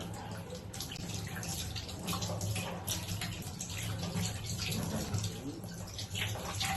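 Water runs steadily from a tap while hilsa fish are being cleaned in a small home kitchen, a continuous close rushing splash with no breaks.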